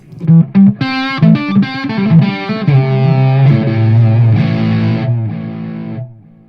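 An electric guitar played through distortion into an EarthQuaker Devices Dispatch Master delay and reverb pedal rings out loud and alone, a few plucked notes followed by sustained chords with repeating echoes that fade away.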